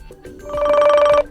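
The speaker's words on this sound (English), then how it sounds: "And that's how you change the ringtone on this device." A ringtone previewed on a TicWatch Pro 3 Ultra smartwatch: a brief electronic trill that rises to a steady, bright warble for about half a second and then cuts off abruptly.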